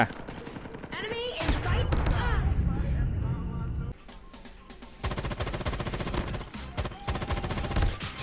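M13 rifle in Call of Duty Mobile firing at long range: bursts of automatic gunfire with brief pauses between, loud and close, with someone speaking over parts of it.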